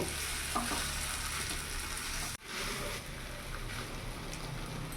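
Potatoes and duck eggs with spices sautéing in a pan give a steady, loud sizzle with stirring throughout, briefly cut off once near the middle before resuming; no voices.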